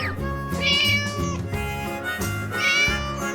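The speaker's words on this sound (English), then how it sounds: "This is a cat." A cat meows twice over a bright children's song with steady music, each meow rising and falling, with the second cry following about two seconds after the first.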